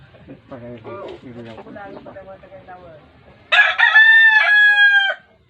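A rooster on a rural Philippine farm crows loudly and close, a long sustained call rising after several seconds of people talking and clucking-like chatter.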